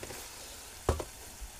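Onion sizzles in a pan while salt is added, a faint steady crackle with one brief, sharper burst of frying or stirring in the middle.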